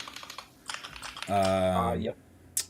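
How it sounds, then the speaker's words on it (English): Computer keyboard typing during a podcast recording: a quick run of light, close clicks comes first, then a voice talks over the tail end, with one more sharp click afterwards. "Oh, that's me typing."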